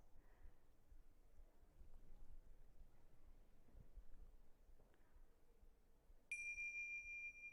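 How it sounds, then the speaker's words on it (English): Meditation bells ring out once, a clear sustained tone that enters near the end and lingers over an otherwise quiet room. "So I'm going to ring the bells."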